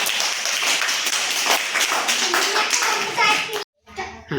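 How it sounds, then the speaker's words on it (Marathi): Classroom of children clapping their hands together, a dense, loud burst of many overlapping claps with a few young voices mixed in, ending abruptly. "टाळ्या वाजवा"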